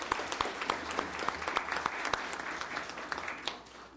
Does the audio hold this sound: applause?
yes